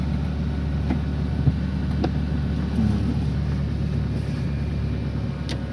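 A driving-school vehicle rolls forward in first gear with a steady, low engine rumble that holds evenly throughout, with only a few faint clicks and no talking.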